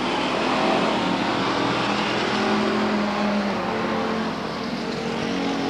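Race cars roar around the Stockton 99 Speedway oval, a loud continuous engine drone with shifting pitch as the pack circles, no voices over it.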